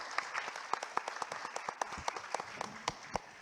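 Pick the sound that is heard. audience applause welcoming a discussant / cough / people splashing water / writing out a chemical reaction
audience applause welcoming a discussant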